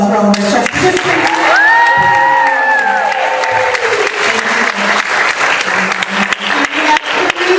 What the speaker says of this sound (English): one last round of applause for all of our chess participants.